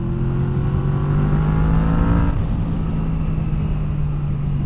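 A Yamaha VMax motorcycle engine revs up with a rising tone, peaks and drops back to a steady idle hum, loud and close.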